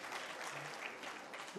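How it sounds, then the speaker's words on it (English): Muffled, distant applause rises from an audience at a ministerial press briefing in Abuja, a soft, steady wash of many hands clapping. "Please, can we give him a round of applause?"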